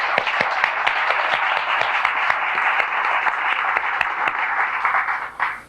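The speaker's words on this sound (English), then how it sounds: "I think we ought to give her a clap." Congregation clapping for a woman during a Derek Prince faith teaching, a sustained, even round of applause from a large indoor crowd with a few sharper individual claps, tapering off at the end.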